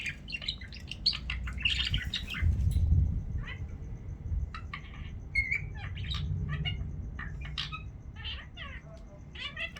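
A pet budgerigar chirps and squawks in scattered bursts, with a few sharp calls close by, over a low background rumble; a voice murmurs faintly beneath.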